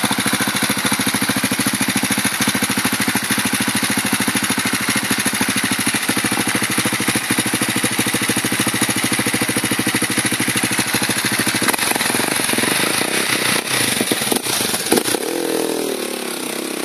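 A dirt bike engine held at full throttle on a steep enduro climb, a loud continuous high buzzing roar that stays steady and close, then wavers and drops slightly toward the end.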